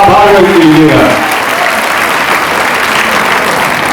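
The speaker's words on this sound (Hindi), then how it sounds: "आप जोरदार तालियां बजाकर उनका आभार व्यक्त कीजिएगा" An audience at a state-level World Red Cross Day celebration breaks into loud applause for the Governor, beginning as a voice trails off and then continuing as a dense, steady roar of clapping.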